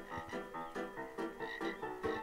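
Frog croaking in the video game Gorilla Tag: a run of rapid, throaty croaks pulsing about every quarter second, close and clear with no other sound.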